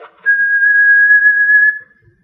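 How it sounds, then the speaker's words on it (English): A person whistles one long, steady, level tone lasting about a second and a half. The tone is loud and close and holds a constant pitch with no rise or fall, and it is alone with nothing under it. "But if I whistle,"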